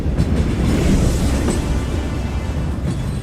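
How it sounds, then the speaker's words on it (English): A train rumbles past a station platform, a loud continuous roar with heavy low-end rumble and steady rattling that holds for a few seconds and eases slightly toward the end. "a train happened to be passing by"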